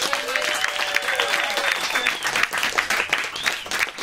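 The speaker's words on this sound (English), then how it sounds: "Give a thanks for round of applause for your performance." Audience at a comedy night breaking into sustained applause, dense clapping with a few whoops and cheers rising over it, fairly close and loud throughout.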